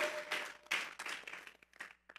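A church congregation clapping in unison as an offering to God during a sermon, producing a short, close burst of rhythmic handclaps that rises and fades over about two seconds.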